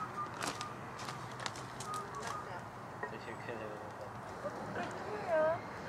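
Small birds chirp faintly and intermittently in quiet countryside near a bungalow at Sapanca, with brief scattered calls heard beneath people talking close by.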